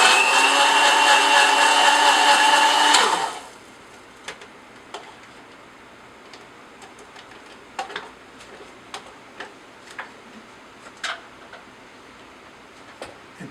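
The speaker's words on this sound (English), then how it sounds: "Just flash blend for 5 seconds." A cheap plastic blender gives a loud, whirring flash blend of a drink for about three seconds, then cuts off, leaving only faint, scattered clicks and taps.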